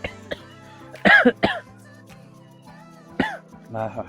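Several sharp coughs close by after eating spicy fried food, a quick pair then a single cough, with a low steady hum in the background and faint voices near the end.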